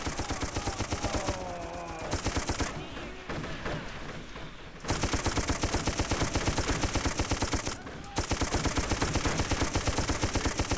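Gunfire in the video game Darkest of Days, heard as rapid, evenly spaced automatic bursts, loud and close, broken by a couple of brief pauses.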